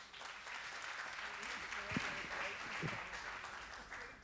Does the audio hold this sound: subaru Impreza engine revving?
no